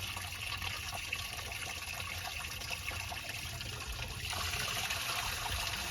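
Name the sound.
coolant draining from Chevy Silverado into drain bucket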